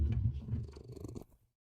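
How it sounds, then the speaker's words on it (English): A cat purring close up, a steady low rumbling rhythm of breaths that runs for about a second and a half before stopping into silence. "Can you hear the purring?"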